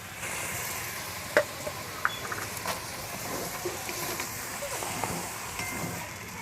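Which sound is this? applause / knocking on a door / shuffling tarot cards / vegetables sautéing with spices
vegetables sautéing with spices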